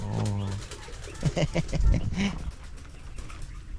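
Low, soft cooing of pigeons at close range, with a few scuffling and rustling sounds alongside.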